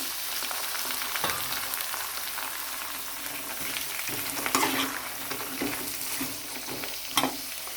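Onions, mixed vegetables and green peas fry in a pan for veg pulao, giving a steady, close sizzle broken by occasional knocks and scrapes of a stirring spoon.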